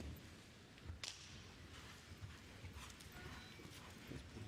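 Horse hooves thud faintly on the arena footing during an international show jumping competition against the clock, a soft irregular clip-clop with one sharper hit early on, set within a broad ambient wash of crowd and venue noise.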